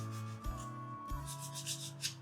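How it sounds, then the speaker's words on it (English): Wood being sanded by hand to distress a finish, soft rhythmic scratchy strokes close by over a steady background hum, with no talking. "what I'm going to do here for a few minutes is sand these"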